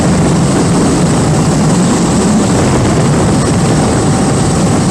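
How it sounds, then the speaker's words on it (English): Heavy wind roar while riding a 2023 Ducati Diavel V4 motorcycle at high speed on a freeway: a loud, continuous, broadband rush that stays steady throughout with no breaks. "A lot of wind at these speeds."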